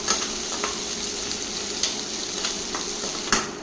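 Tamarind rice mixture with ground chili is stirred in a hot pan, giving a steady sizzle with a few light spoon scrapes and taps, no voices.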